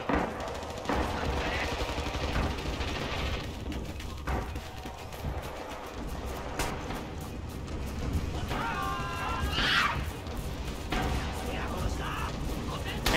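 Mortar fire and bursts of gunfire crackle through a Rising Storm battle, with rattling automatic shots and distant explosions under ongoing voice chat.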